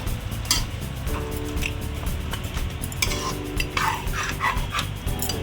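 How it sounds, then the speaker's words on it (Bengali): Ground onion paste is stirred into desi chicken in a pan, with a spoon scraping and clinking against the metal amid a soft sizzle, close and busy without any talking. "এই পেস্টটা এর সঙ্গে অ্যাড করে দিচ্ছি, করে ভালো করে নাড়াচাড়া করব।"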